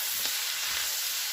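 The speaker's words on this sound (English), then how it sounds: "I'm just mixing this" Cooked food being stirred and mixed in a hot pan, a steady bright sizzle and hiss running throughout with a soft scrape of the utensil, close up and alone.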